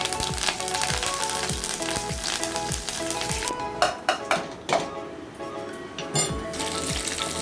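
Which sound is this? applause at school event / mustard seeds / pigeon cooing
mustard seeds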